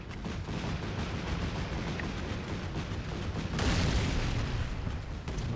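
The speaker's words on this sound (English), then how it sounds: "BMPs are being brewed up by these 35mm autocannons." Autocannon fire from 35mm guns hitting BMP armored vehicles in the Combat Mission: Shock Force 2 war game, a dense continuous rumble of booms and blasts that swells louder near the end, with no talking.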